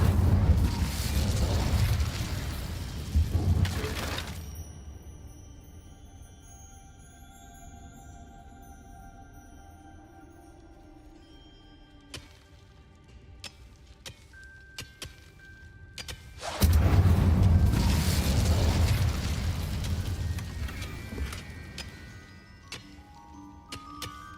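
An Incendio fire spell is cast in the Hogwarts Legacy video game: a loud fiery whoosh-burst opens, fades into quiet game ambience with small ticking sparkles, then a second strong blast near the end.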